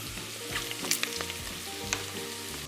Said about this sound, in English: The sugar is caramelizing over the pork